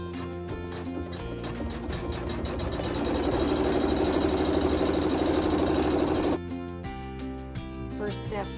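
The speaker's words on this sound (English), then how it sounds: "we're going to continue with the neutral thread and sew a seam." A sewing machine stitches a seam in fabric with neutral thread, running in a steady mechanical burst of about three seconds in the middle, while a continuous background tone hums throughout.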